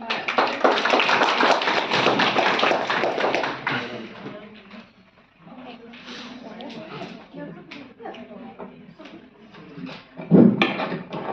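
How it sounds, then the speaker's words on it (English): A crowd applauds with dense, rapid clapping at a college leadership talk, gradually thinning out, followed by scattered claps and a few voices. "Please welcome ma'am with a clap."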